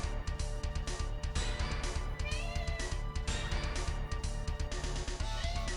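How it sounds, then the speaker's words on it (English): A pet cat meows close by, several short cries over a steady background hum, with no one talking. "What are you doing, daft cat?"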